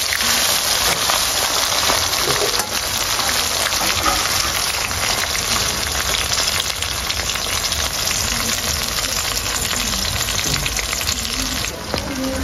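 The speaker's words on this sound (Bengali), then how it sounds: "চিংড়ি মাছ কিন্তু বেশি ভাজার দরকার নেই, মোটামুটি 30 সেকেন্ড ভাজলেই হয়ে যাবে।" Shrimp frying in hot oil gives a steady, loud, crackling sizzle that runs without a break from start to finish, close up and with no talking.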